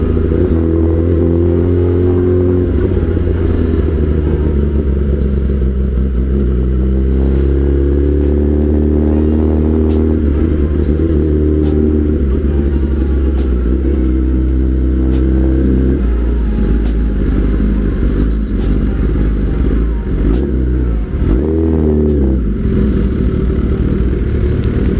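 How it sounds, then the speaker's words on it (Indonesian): Kawasaki ZX10R 1000cc four-cylinder sport motorcycle heard while riding, a loud continuous engine drone with rising and falling revs and gear shifts, heavy wind and exhaust roar close up, no talking. "merdu banget ya suara 4 silinder."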